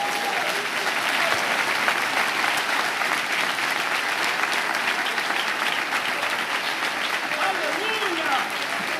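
A church congregation at an IEQ service in Piracicaba applauds, a dense, steady wash of clapping that holds evenly for the whole stretch, with a few voices calling out over it.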